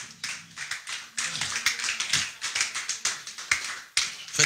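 Church congregation applauding, a crisp close clatter of many hands clapping in irregular bursts that rises and falls in waves.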